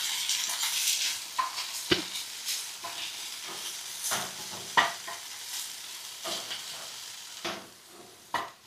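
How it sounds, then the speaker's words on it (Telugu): Mint leaves frying in a pan, a bright hissing sizzle that rises and fades as a utensil stirs, with several sharp scraping knocks, close and fairly quiet, no voices. "పుదీనాను కొద్దిసేపు వేయించుకుందాం."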